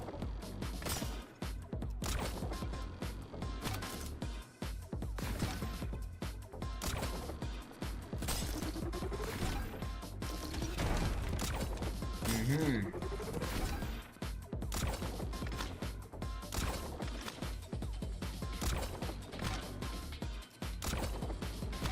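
Explosions and shooting in the fast-paced video game Neon White crash in quick succession over steady game music, with a brief murmur from a player.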